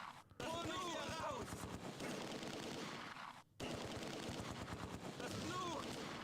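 Bren light machine gun fire in the World War II game Close Combat 2, with bursts of rapid automatic shots over a busy battlefield. One brief break in the firing, then it carries on at a constant loud level.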